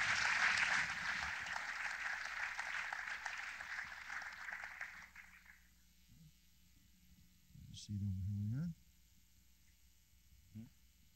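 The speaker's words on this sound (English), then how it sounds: "I'm now going to ask the rest of our panel to come on up to a round of applause" Audience applause at a Chicago media panel discussion, a loud wash of clapping for about five seconds that fades out, leaving a room hum with a few brief voice sounds afterward.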